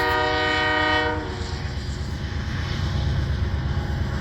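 A westbound train picks up speed near Fremont and Omaha, its horn sounding briefly at the start before giving way to a steady rumble of rolling railcars and engine noise.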